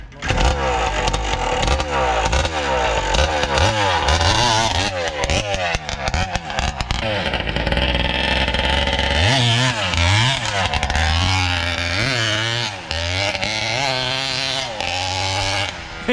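Yamaha XTZ 180 two-stroke motorcycle fitted with a modified Titan engine, revving hard with sharp rising and falling wails and raspy buzzing, loud and sustained as it accelerates on dirt.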